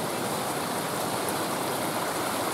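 Rushing water where two rivers meet, a dense, steady outdoor roar of flowing stream, close and unbroken, with no voices.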